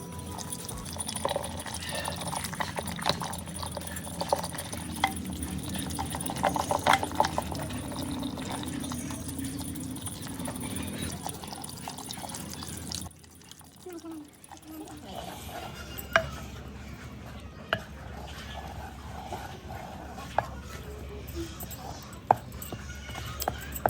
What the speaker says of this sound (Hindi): तो मथानी हमने ले ली है, अब इसको मथ देते हैं।